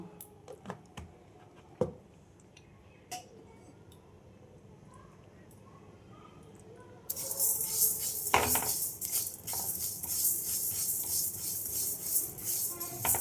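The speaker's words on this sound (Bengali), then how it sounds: "আমি ডালটা এটা শুকনো খোলায় ভেজে নেব" Kalai dal dry-roasting in a dry pan: after a quiet stretch with a few scattered clicks, a steady, fairly loud rustling hiss and scraping rattle of the lentils starts and continues to the end.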